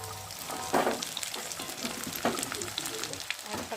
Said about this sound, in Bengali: আর এখন আমি সবজিগুলো দিয়ে ভালো করে ভেজে নেব।